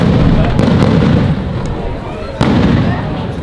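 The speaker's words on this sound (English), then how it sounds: "When we got here, fireworks were going off." Small New Year's fireworks popping in Antigua, Guatemala, a dense rumbling crackle with a few sharp pops and one louder burst, fairly close, with voices faintly underneath.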